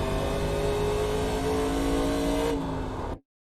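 A NASCAR Legends race car in the iRacing sim, engine held at full throttle with a steady loud drone and rising harmonics, then the pitch drops slightly as the driver lifts before the sound cuts off abruptly.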